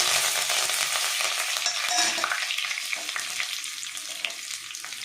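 Fenugreek, dried chillies and curry leaves sizzle in hot oil as a tempering for fish kuzhambu, a loud, close hiss that gradually settles with scattered small crackles.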